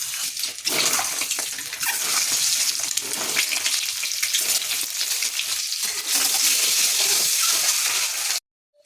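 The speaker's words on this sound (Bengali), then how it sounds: "ডিমের মধ্যে নুন, হলুদ আর লঙ্কার গুঁড়ো দিয়ে ভালো করে ভেজে নেব" Eggs coated with salt, turmeric and chili powder fry in a small amount of hot oil, giving a loud, continuous sizzle with crackling bursts that stops abruptly near the end.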